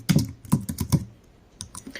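Fast bursts of keystrokes on a computer keyboard while entering a student's name into a recital title card, with clusters of clicks and short pauses, close and clear with no talking.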